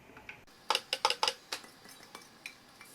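A spoon clinks sharply against a bowl while whipped curd is stirred into garlic raita, several quick metallic taps clustered together, then a few lighter, sparser clicks, close by and with no talk.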